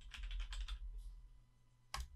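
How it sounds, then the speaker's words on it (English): Typing on a Womier K66 mechanical keyboard with brown switches and an acrylic backing: a quick burst of several close, soft clacky keystrokes, a pause, then one louder key press near the end. "So this is the Womier K66 Mechanical keyboard with an acrylic backing"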